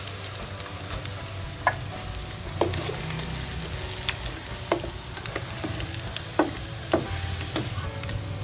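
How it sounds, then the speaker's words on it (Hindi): Potato and spinach lachha pakoras deep fry in hot oil, with a steady bubbling sizzle and frequent sharp pops and crackles throughout. "गोल्डन कलर आने तक अच्छे से इसको फ्राई कर लूँगी।"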